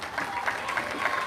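Brief burst of audience applause at a health careers summer internship closing ceremony, steady clapping from a crowd heard at moderate distance.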